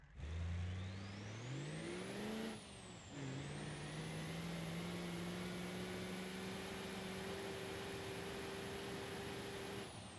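A D-Series pickup with two-wheel drive and no locker climbs a steep 30% grade in BeamNG.drive, its engine rising in a whining rev, dipping briefly at a gear change, then holding a steady loud drone.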